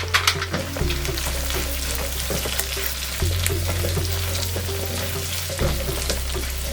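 Cubed red capsicum and onion frying in a pan for hotel-style sambar rice, a steady close sizzle with a low hum underneath, continuous and without talking.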